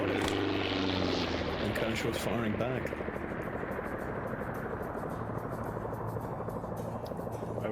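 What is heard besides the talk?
helicopter flying in a video game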